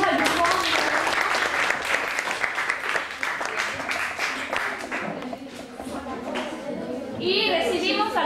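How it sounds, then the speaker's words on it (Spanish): A classroom of students applauds a group during a language and literature demonstration lesson, a busy clatter of clapping mixed with children's chatter, easing midway and then picking up again toward the end. "Muy bien, aplaudimos al grupo"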